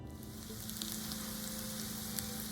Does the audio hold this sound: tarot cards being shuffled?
no